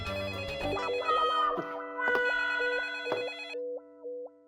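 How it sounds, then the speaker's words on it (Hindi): A phone ringtone plays a bright electronic melody that repeats, with beeping tones trailing off at the end. "दूसरा फोन बज रहा है।"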